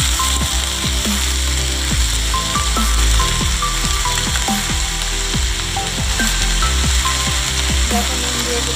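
Shrimp and potato frying in oil in a wok seasoned with turmeric, chilli and five-spice, giving a steady loud sizzle with repeated scraping stirs throughout.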